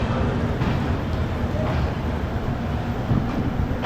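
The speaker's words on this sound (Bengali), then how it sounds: "ট্রেন ছাড়লো শিয়ালদা স্টেশন থেকে" Kanchankanya Express pulling out of Sealdah station at night with rain falling outside, a steady, close, continuous rumble of rolling wheels and carriage noise with voices mixed in.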